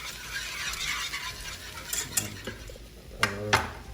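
Whisk scraping and clinking rapidly in a pan of sauce with grated Parmesan, a busy continuous metallic stirring with a couple of sharper knocks near the end.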